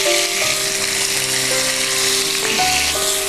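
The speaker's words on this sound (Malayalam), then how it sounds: "ഇനി ഇതേ എണ്ണയിലേക്ക് നമ്മൾ ചതച്ച് വെച്ചിരിക്കുന്ന മസാല," Crushed masala fries in oil left over from frying chicken, a loud, close, continuous sizzle with tonal hums running underneath throughout.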